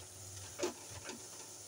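Rasbara sweets frying in hot oil, a steady soft sizzle and hiss with a couple of faint stirring clicks, close and continuous over a short stretch.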